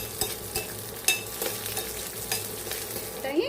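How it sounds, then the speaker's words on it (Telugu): Raisins and cashews fry in melted ghee, giving a steady crackling sizzle with scraping stirs that come now and then, close and alone. "గీలోనే డ్రై ఫ్రూట్స్ అన్నీ కూడా వేయించుకుందాము."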